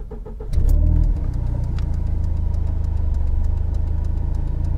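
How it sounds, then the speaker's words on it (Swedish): A Volvo 940 engine catches with a brief louder surge, then settles into a steady, even idle that carries on up close with a faint ticking rhythm and no talk. "Mycket bättre tomgång."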